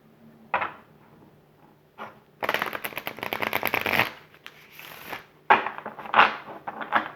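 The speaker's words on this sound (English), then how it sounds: "So let's just get another clarifying card here." A tarot deck is handled with a couple of brief card flicks, then a longer crisp riffle shuffle. Several sharp snaps follow as cards are drawn and laid down, close and alone.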